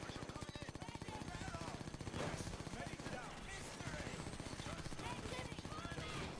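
Rapid automatic gunfire crackles in the video game Payday 2, bursts of shots running in fast rhythmic strings while a player talks over the shooting.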